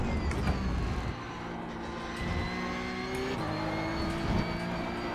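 Porsche Cup race car engine in the iRacing sim racing game, a steady loud whirring drone with rising and falling revs and a shift around the middle, with no talk.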